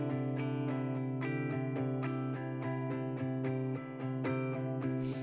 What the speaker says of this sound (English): I started with this other guitar underneath it that sounds like this